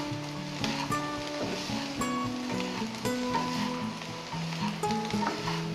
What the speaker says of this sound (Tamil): இப்போ ஆல்மோஸ்ட் இது வந்து நல்லா எல்லாமே ஃப்ரை ஆகிடுது ஈவனாக